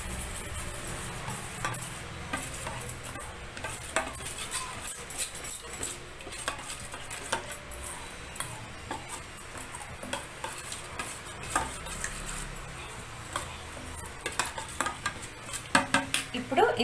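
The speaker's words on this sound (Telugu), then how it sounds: "సో ఇదంతా ఇప్పుడు బాగా మిక్స్ చేసేయాలి" A paneer tikka marinade is worked together in a bowl with a spoon, giving irregular close clinks, taps and wet scraping knocks that grow busier toward the end.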